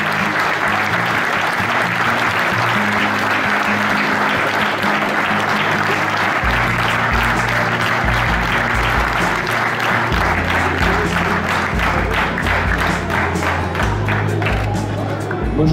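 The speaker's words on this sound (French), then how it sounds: "On peut applaudir très fort." A large farm-event crowd in Auvergne applauds loudly and steadily for the whole stretch, a dense, continuous clapping with a low rumble of voices and stamping beneath it.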